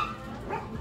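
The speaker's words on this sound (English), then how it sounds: "did y'all hear that dog? It's a dog in the store, and it's actually two dogs." Dog barking inside a discount clothing store, one or two short yips rising out of steady store background noise, fairly faint and brief.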